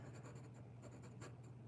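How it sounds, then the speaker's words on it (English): A new, scratchy pencil rasps steadily across paper in close strokes, quiet and continuous over a low hum. "that is my new and scratchy pencil."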